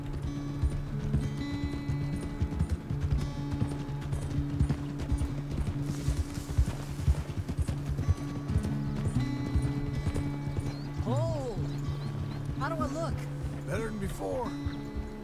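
Horse hooves clip-clop steadily in Red Dead Redemption 2, a rhythmic trotting patter heard close under game dialogue, with a brief whinny and rising vocal sounds near the end.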